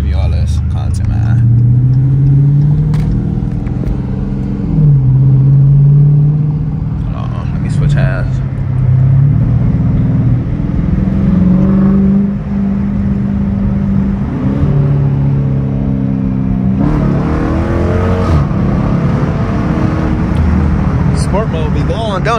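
A Dodge Challenger R/T engine revs and accelerates hard in sport mode with no traction, a deep, rising roar close by, while someone talks over it.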